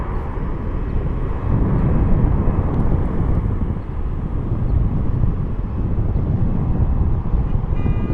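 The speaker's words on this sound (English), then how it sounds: "Alaska Airlines 330 inbound from Seattle. It's the Oneworld livery." An Alaska Airlines jet in Oneworld livery arriving from Seattle, heard as a loud, steady broadband roar that swells slightly midway, with some wind noise and no talking.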